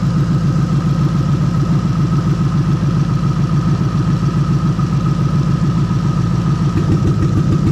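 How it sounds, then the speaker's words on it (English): Toyota 1UZ-FE V8 with its injectors being unplugged idles loudly and steadily up close, a dense low rumble with an uneven, lumpy pulse, alone without talk. "I'm going to go into all the injectors now and pull them off one by one just so you can see they're misfiring"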